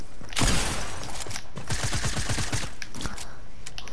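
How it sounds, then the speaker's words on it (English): Repeated shotgun blasts in a video game, several close, loud shots in quick succession over a steady noisy background, with no talking. "I literally use all my shotgun shots for no reason."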